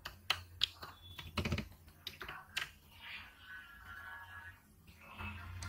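A password typed on a computer keyboard: irregular, close, crisp keystroke clicks spread over several seconds, with some faint background noise and no speech.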